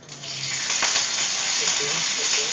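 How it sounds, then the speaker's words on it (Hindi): Mustard seeds and curry leaves sizzle steadily in hot oil in a cooking-contest kitchen, a loud, continuous close crackle and hiss with a brief stirring scrape. "मस्टर्ड सीड्स थोड़े स्प्रिंकल हो जाते हैं फिर हम करी लीव्स डालते हैं"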